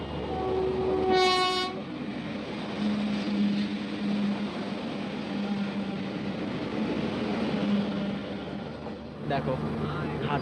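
Deccan Express passenger train on the Mumbai–Pune line sounds one short horn blast near the start, then a steady low rolling rumble continues with faint voices in the background.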